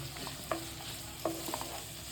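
Beans and fresh peas sautéed in a pan on a medium flame, giving a soft, quiet sizzle with two or three light spoon scrapes against the pan; no voices.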